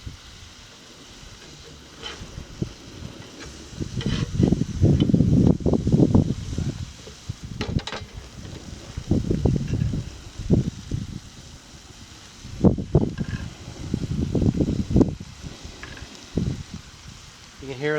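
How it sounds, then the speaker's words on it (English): Wind gusts across an outdoor BBQ flame in uneven roaring bursts, swelling and fading over a constant low background hiss. "You can hear the flame fighting the wind there."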